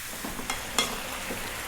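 Food frying in a pan and stirred fairly often over a long cook: a steady, quiet sizzle with a few light scraping stirs, no voices.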